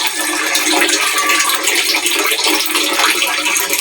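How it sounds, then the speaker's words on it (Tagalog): Tap water pours steadily into a container for hand-washing laundry in a bathroom, a continuous bright rushing hiss with no pauses and no talk. "Punuin ko muna ng tubig."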